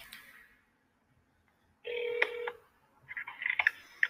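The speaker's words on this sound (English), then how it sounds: "We're just gonna give him a little ring." A telephone on speakerphone dials a number, its quick touch-tone beeps followed by an electronic ringback tone, moderately loud in a quiet room with no talking.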